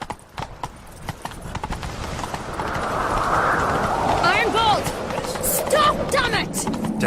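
Horse hooves clip-clop at a gallop in The Witcher 3, a rapid rhythmic thudding that grows louder and denser midway, with voices and a whinny-like cry over the running.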